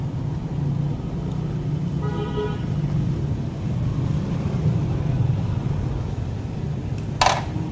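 A Lotus pressure washer runs with a steady low motor hum and drone throughout, fairly close, with a brief tonal whine partway through and a sharp click near the end.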